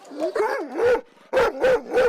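A large dog at a municipal animal shelter in Lutsk barks close and loud. About six deep, sharp woofs come in two quick bursts with a brief gap between them, and no voices are heard.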